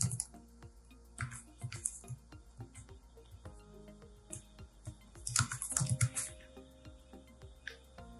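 Keystrokes on a computer keyboard as a file name is typed, irregular bursts of clicks with short pauses, fairly close and moderately quiet, no talking.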